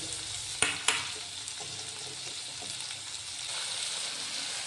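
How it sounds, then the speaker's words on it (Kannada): Chopped onion, tomato and curry leaves fry in a pan with a constant close sizzle, two sharp clinks of a utensil early on and a few soft stirring strokes, with no voices. "ಹೆಚ್ಚಿಟ್ಕೊಂಡಿರೋ ಈರುಳ್ಳಿ ಟೊಮ್ಯಾಟೊ ಕರಿಬೇವು ಎಲ್ಲ ಫ್ರೈ ಮಾಡಿಕೊಡ್ರಿ"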